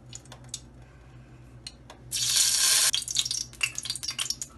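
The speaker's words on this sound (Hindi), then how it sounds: "तेल डालेंगे" Cooking oil poured into a pan while making white karahi chicken: a loud, steady rush of pouring and sizzling lasts about a second. Quieter kitchen clatter and faint ticks come before and after it.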